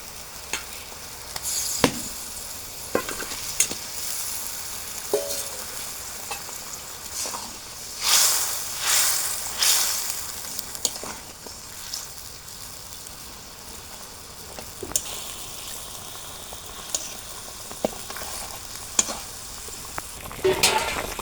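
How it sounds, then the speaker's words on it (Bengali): Fried boal fish going into a simmering oily fish curry in a pan, giving a steady soft sizzle with scattered clicks and stirring scrapes, louder bursts of hissing midway, close and without talk. "ভেজে রাখা বোয়াল মাছগুলো দিয়ে দেবো।"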